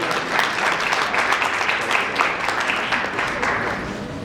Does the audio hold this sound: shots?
no